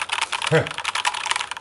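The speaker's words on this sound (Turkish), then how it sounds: "Eloy Elite 2 böyle bir klavye." Rapid typing on a HyperX Alloy Elite 2 gaming keyboard, a dense run of close, crisp key clicks with a brief low thump partway through.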